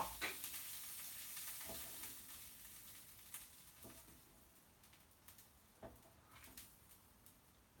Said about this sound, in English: stirring up some bolognese